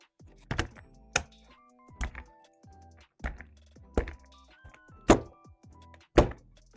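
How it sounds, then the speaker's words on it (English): Keycaps come off a keyboard and are swapped, a series of about ten sharp plastic clicks and thunks at a loose, irregular pace, close and distinct, with no talking. "Now we're going to switch the keycaps out."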